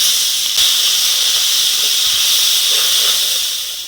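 Turmeric and salt spice mix hitting hot oil, a loud steady high hiss that holds for several seconds and then fades slightly toward the end, with no talking.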